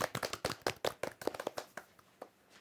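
Classmates applaud on the first day of a class. A dozen or so uneven handclaps come from a small group at a modest distance and taper off into a few scattered claps at the end.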